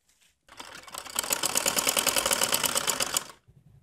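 A sewing machine stitches the shoulder seams of a linen kameez in one steady burst of rapid mechanical clatter lasting about three seconds, with quiet room sound before and after.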